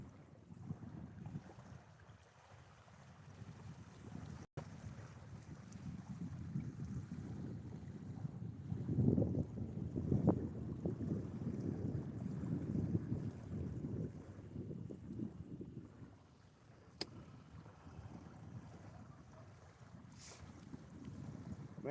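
Wind buffets the microphone out on open water while fishing from a boat at night, a steady low rushing roar with gusts swelling louder midway, and no talking.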